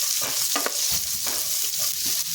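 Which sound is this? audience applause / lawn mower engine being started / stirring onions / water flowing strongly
stirring onions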